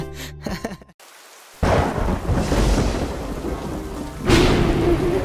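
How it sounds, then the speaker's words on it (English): Heavy rain pours steadily in an animated scene, with rumbling thunder crashing in loudly after a brief quiet gap and another strong rolling burst near the end. "This rain is so heavy."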